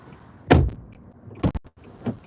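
A car door thuds shut with a heavy close, followed by a couple of shorter knocking and clicking sounds inside the vehicle, with no talk.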